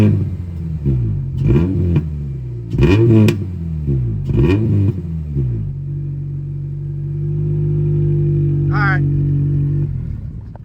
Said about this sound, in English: he's going to start the car real quick